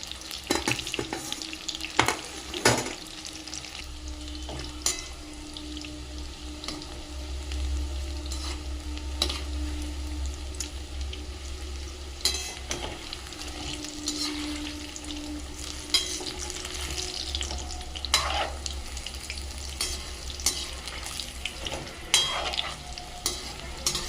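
Jackfruit pakoras deep-fry in hot oil, a steady bubbling sizzle with occasional clinks and scrapes of a utensil against the pan, fairly quiet and close, with no talking.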